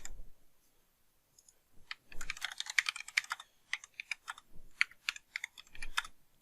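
Quick keystrokes on a computer keyboard while entering a Python input value, in short irregular bursts of light clicks with a brief pause, close and fairly quiet.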